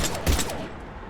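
Gunfire from the video game Mass Effect 3 in a tense firefight, a loud burst of shots rattling together over a low boom, then fading into lingering battle noise.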